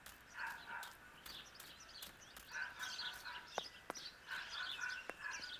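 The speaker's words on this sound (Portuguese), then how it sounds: "o cachorro late sem parar, velho" A dog in the video game Martha Is Dead barks over and over at middle distance, bursts of yapping repeating almost without pause against a faint outdoor ambience.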